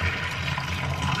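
Water holding spent fabric dye pours out into a utility sink in a laundry room, a steady, close splashing rush with no speech.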